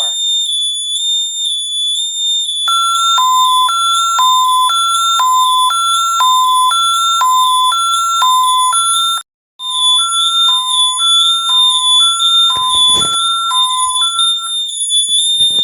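An ADT SafeWatch Pro 3000 home security system alarm sounds loud and close, a steady repeating two-tone electronic beeping pattern with a very brief break partway through.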